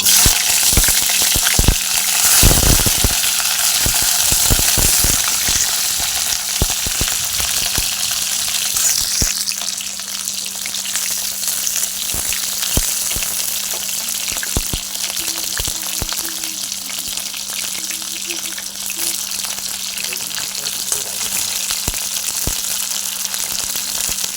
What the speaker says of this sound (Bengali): তেল গরম হয়ে গেছে দিয়ে দিচ্ছি ফুলকপি